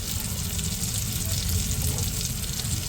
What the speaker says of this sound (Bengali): আদা জিরে বাটা আমি একসঙ্গে বেটে নিয়েছি দিয়ে একটু ভালো করে নাড়াচাড়া দিয়ে দেবো